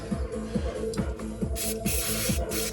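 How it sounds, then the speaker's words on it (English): A nearly empty aerosol can sputters in short hissing bursts over a rhythmic mechanical chugging, the spray coming in uneven spurts, while working on an Escort Cosworth. "when you tip the can, it's not spraying"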